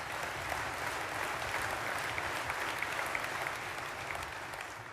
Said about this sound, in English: a round of applause is very appropriate there.